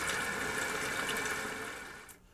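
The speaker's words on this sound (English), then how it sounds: "And then you're going to flush the toilet about twice so that the water goes out of the tank." A toilet flushes as the tank is drained during a running-toilet repair, a steady close rush of draining water that cuts off near the end.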